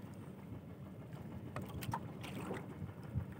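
A small fishing boat out on the open sea makes a faint, steady low rumble under wind and water noise, with a few brief splashy bursts partway through.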